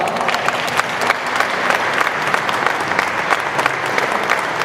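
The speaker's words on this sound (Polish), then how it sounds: "Wielkie brawa." An audience claps steadily at a rally car memorial event, a dense, even round of applause from a crowd that holds for several seconds without voices.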